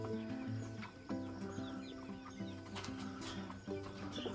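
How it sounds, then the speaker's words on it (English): Several chickens cluck and squawk in a backyard breeding pen holding meat chickens, with overlapping calls close by and a few sharper cries rising over a busy flock. "a chicken is a brutal, mean thing"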